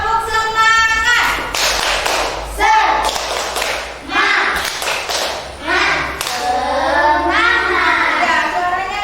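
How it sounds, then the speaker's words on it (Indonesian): Classroom of students doing a rhythmic spirit clap, sharp patterned hand claps and taps in bursts, interleaved with a teacher and children chanting and talking loudly close by. "kita tepuk semangat dulu biar semangat yuk"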